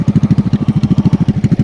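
A motorcycle engine putters close and loud during a riding lesson, its fast, even pulses holding a steady idle rhythm through the short burst.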